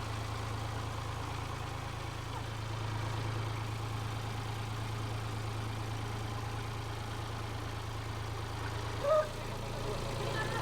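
A steady low tractor engine drone idles continuously throughout, with a brief louder knock near the end, on a farm in Palghar.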